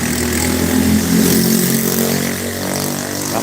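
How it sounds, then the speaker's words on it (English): A loud scooter engine passes close by on a street in Da Nang, Vietnam, its rough drone rising and then easing off as it goes by, heard alone without speech. "That's a loud scooter."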